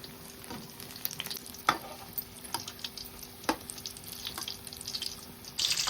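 Mirchi bajji, chili fritters in batter, deep frying a second time in hot oil, a quiet, steady bubbling hiss with occasional soft clinks and stirring taps, no voices.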